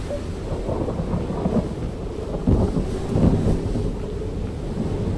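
Stormy weather in the video game Edge of Eternity, heard as a steady roar of wind and rain with low rumbling swells, no voices, rising a little in the middle of the stretch.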